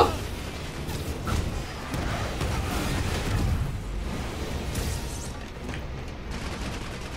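Sustained rapid minigun fire from an enemy in the Spider-Man video game, a dense continuous roar of shots and booms lasting throughout at steady loudness.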